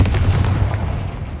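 Confringo fire spell blasting in the Hogwarts Legacy video game, a dense booming explosion with heavy low rumble that sustains loudly for the whole moment, no talking over it.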